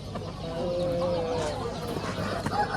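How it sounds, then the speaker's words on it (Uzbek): Chickens and roosters clucking in cages at a poultry market in Navoiy, a soft mix of bird calls under nearby talk and general market bustle. "Mana dakallar bor, qorasi, tovuqchalar"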